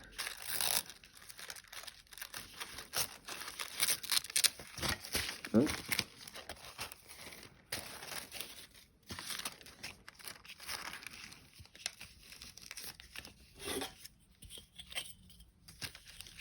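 Pattern paper being torn and crinkled by hand for a vintage butterfly junk journal collage, close and fairly quiet, a series of short rips and rustles.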